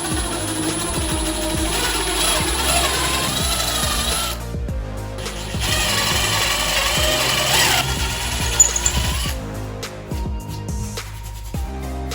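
A power drill whines steadily as it bores through a wooden cabinet door, pausing briefly twice before resuming, loud and close.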